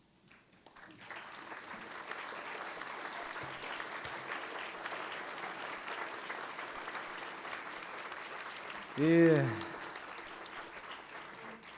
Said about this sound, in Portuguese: como nós todos já complementamos com esses aplausos